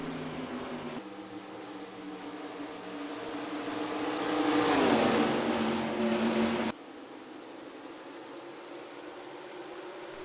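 Race cars lapping Rockingham in the NASCAR Racing 2003 video game, with a steady engine drone that swells as a car passes close by, then cuts abruptly to a lower hum.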